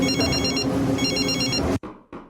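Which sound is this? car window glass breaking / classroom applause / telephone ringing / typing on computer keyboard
telephone ringing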